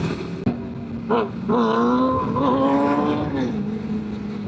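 A Suzuki Hayabusa motorcycle revs nearby at a crowded group ride and bike meet, its engine note climbing and holding in a loud, rising whine after a sharp pop.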